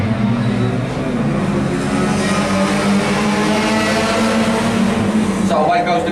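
Race cars roar off at the green flag to start the second heat, a loud, sustained engine drone with rising pitch, partly under a commentator's voice.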